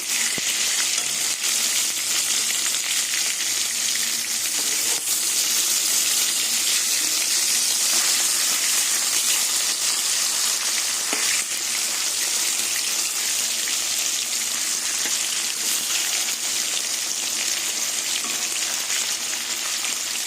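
Flipped katla fish pieces frying in hot oil in a wok, a long steady roar of hissing oil with occasional crackles and faint clicks, no speech heard.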